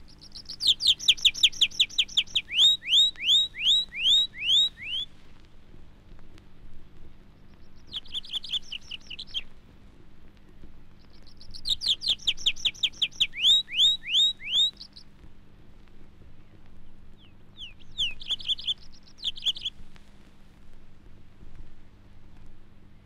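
A tree pipit sings in display flight over British woodland, delivering four bursts of bright trilling song separated by short pauses, fairly close and clear above a low steady background hum.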